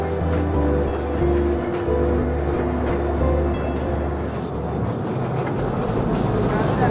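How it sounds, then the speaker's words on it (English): A small mine train rumbles along into the Khewra Salt Mine in Pakistan, deep underground, with steady mechanical clatter and a low engine drone, while people talk nearby over the noise. "to get into the mine, which is deep underground of course, we go on this little train"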